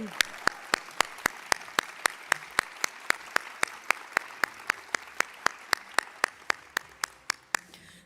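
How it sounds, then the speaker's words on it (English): At an award nominations ceremony, one set of hands claps close by in a sharp, evenly spaced rhythm over a softer bed of audience applause that continues throughout. "And you may stand up so we can go ahead and applaud."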